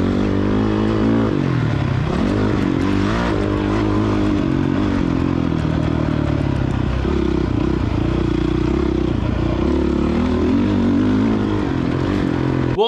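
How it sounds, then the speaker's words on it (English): A dirt bike tears around a motocross track, recorded on a GoPro Hero 7 or 8 Black mounted on the rider, with a loud, close engine revving up and down through gear changes over constant wind and clatter. "You can see me riding, you can see me doing some motocross, and you can see that the audio sounds great."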